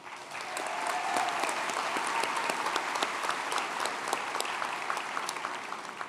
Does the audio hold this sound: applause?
yes